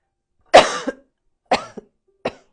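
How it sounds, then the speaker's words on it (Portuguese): Three separate harsh coughs, close and loud, spaced about a second apart, each trailing into a short catch with silence between. "não tô aguentando tossir mais"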